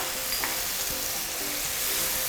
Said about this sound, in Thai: แล้วก็ผัดให้เข้ากันอีกทีนึงค่ะ